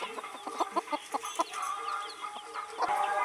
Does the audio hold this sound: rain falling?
no